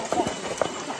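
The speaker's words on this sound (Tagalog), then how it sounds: "Kabayo." A horse's hooves clop on the ground in a rural field, with a few quick, close hoof strikes in an uneven rhythm while a person talks over them.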